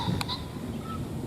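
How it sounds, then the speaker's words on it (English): A rooster pheasant gives a short, sharp crowing call from a distance in a swampy spring setting. It sits over a steady outdoor background hiss. "that was a rooster pheasant"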